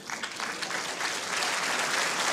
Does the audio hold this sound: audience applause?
yes